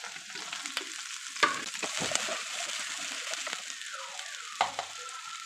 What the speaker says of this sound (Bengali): এখানে আমি আদাটা ভালো মতো একটু ভেজে নিচ্ছি